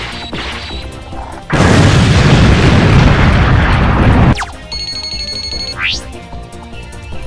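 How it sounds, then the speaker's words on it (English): A loud, roaring explosion from Red-Eyes Slash Dragon's attack in a Yu-Gi-Oh video game bursts in and rumbles for about three seconds, then cuts to softer ringing chimes and a rising electronic sweep. "Now, I will have Red Eye Slash Dragon attack your Scrap Recycler."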